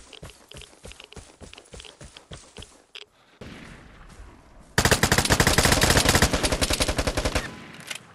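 Sustained light machine gun fire in a first-person shooter trio match, a burst of separate shots and footsteps giving way to a long, loud, rapid automatic stream that runs for several seconds before stopping.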